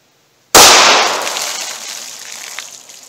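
A single sharp 9mm gunshot from an Underwood Maximum Expansion round fired out of a 4-inch barrel, a loud, sudden crack after a moment of silence, trailing off into a long, fading outdoor echo.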